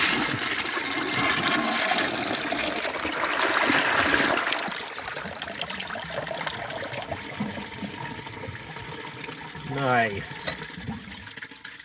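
An old toilet is flushed and water gushes and swirls through the bowl, then trickles and gurgles as it siphons, fairly faint in a quiet room, with a brief spoken word near the end.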